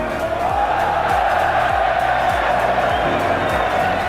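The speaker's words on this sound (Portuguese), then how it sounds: "A torcida reagiu com aplausos e risadas." Loud football stadium crowd roaring with cheers, applause and laughter after a referee sends off his own assistant, a dense continuous wash of noise with scattered whoops.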